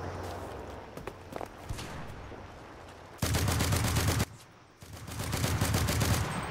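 Rapid automatic gunfire in the World War II shooter Enlisted, Pacific operation online match, comes in two loud sustained bursts, about a second and then more than a second long, after a stretch of quieter rattling battle ambience with scattered distant shots.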